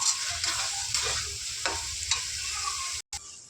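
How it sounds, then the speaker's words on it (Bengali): Mutton browning in a hot pan, stirred with a spoon, gives a steady close sizzle broken by scraping strokes before a brief cut near the end. "দেখো, কিছুটা মাংস দিয়ে আগে কষিয়ে নিচ্ছি।"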